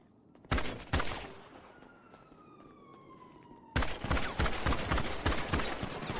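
Gunfire from a Grand Theft Auto game: two sharp loud reports, a lull with a falling siren tone, then a dense burst of rapid shots filling the rest.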